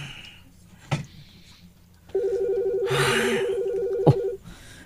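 A telephone rings with an incoming call, a steady electronic warbling tone lasting a couple of seconds, bracketed by sharp clicks and a breathy rustle, with no speech.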